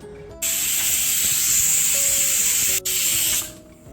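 A pressure cooker on medium flame releases a loud, steady hiss of steam, running continuously for several seconds with a brief break near the end before tapering off.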